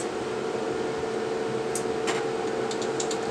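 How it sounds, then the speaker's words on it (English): A Brother HL-3075CW color laser printer calibrates with a steady mechanical hum and whir, broken by a few faint clicks and brief higher-pitched ticks, close and constant. "So once my printer calibrates, I will show you how we can do that."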